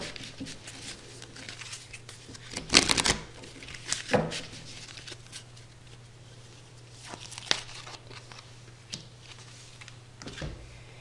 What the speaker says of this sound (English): I'm going to go ahead and pick one card from the angels